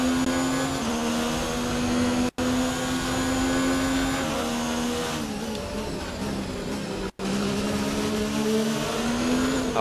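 Formula 1 race car engine in F1 2019 on the Belgian Grand Prix, a steady high-pitched whine holding near one pitch with slight dips, two brief cuts in the sound, loud and continuous with no talk.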